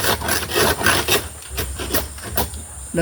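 A blade cuts palm tree wood in a steady back-and-forth rhythm, each stroke giving a rough, raspy scrape close by and fairly loud.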